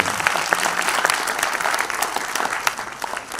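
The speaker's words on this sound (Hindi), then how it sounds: "जो बैठे थे वो 3 फिर ताली क्यों नहीं बजी तुम्हारी?" An audience at a talk on nationalism and service bursts into loud, close clapping, a thick, continuous round of many hands that stays strong before easing slightly at the end.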